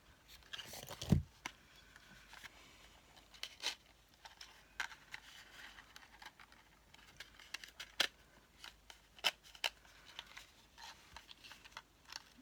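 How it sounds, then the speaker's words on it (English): Scissors snip through ribbon on a stamped designer tote gift bag charm, a few sharp, close cuts scattered among quiet handling rustles with no talking. "I'll trim that a bit."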